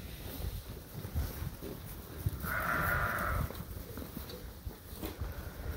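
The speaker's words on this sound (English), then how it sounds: "Nice bunch of lambs." A single sheep or lamb bleat rises mid-way through a barn's low background rustle and shuffling during evening chores, moderately close but not loud.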